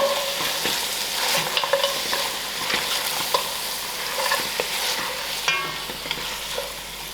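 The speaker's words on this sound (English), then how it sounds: "And allow these spices to fry within the meat." Spices and stock powder fry with lamb meat in a pot for a stew, giving a steady close sizzle with scattered scraping clicks from stirring, and no voices.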